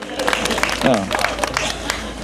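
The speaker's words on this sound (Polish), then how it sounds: "Brawa dla niego!" A crowd claps for the firstborn son during a costumed royal-family pageant, with a dense, continuous patter of applause while a voice speaks briefly over it.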